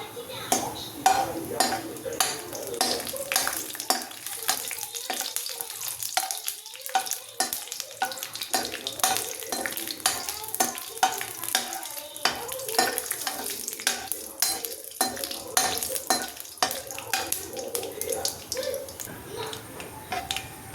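Small coconut pieces fry in ghee until golden, with a busy crackling sizzle and constant scraping and clinking as a spoon stirs them around the pan, close and continuous.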